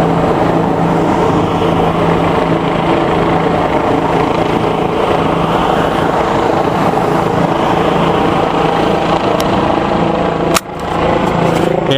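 A police helicopter passes overhead, its steady rotor and engine drone loud and continuous throughout, with a brief dip near the end.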